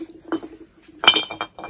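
A knife chops kiwis for pickle at night, producing a few soft taps and then a quicker run of sharper clicks and clinks against the board and utensils, close and clear.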